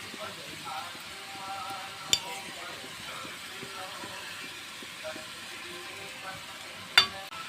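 Three crushed green chilies sizzle in a hot pan with a soft, steady frying hiss that stays faint and even, broken by two sharp clinks.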